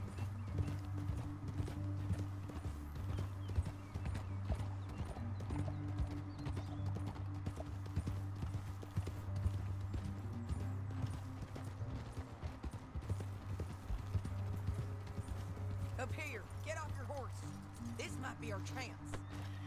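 Horse hooves clip-clopping steadily throughout in the video game Red Dead Redemption 2, a continuous trotting rhythm over a low droning background, with a brief whinny-like sound near the end.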